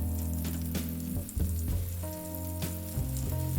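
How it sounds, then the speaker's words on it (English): Cooking oil and homemade compound butter melting and heating in a pan for a curry base give a steady, close sizzle with crackles, under a constant background hum and without talk. "Add a little cooking oil to the same pan for the base of the curry and a dollop of my homemade compound butter for richness and flavor."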